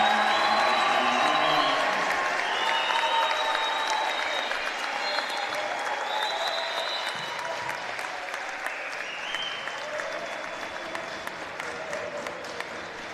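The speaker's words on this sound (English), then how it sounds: "Julian Levin will get his standing ovation." Standing ovation from the crowd at a Swarthmore College men's basketball game against McDaniel, sustained applause with some cheering that slowly thins and fades across the stretch.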